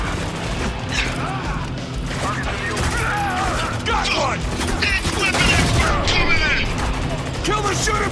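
Gunfire in the video game Spec Ops The Line: dense bursts of shots and mechanical clatter amid battle effects, loud and steady throughout, with voices calling out over the fighting.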